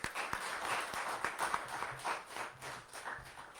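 Audience applause at a World Space Week valedictory award function, a dense steady wash of many hands clapping across the room, moderately loud and continuous without speech.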